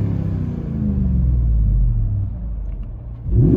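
A 2007 Chrysler Aspen with a 5.7L HEMI V8 and Flowmaster Super 44 exhaust rumbles from inside the cabin, a deep steady drone that dips then rises again as the engine revs near the end.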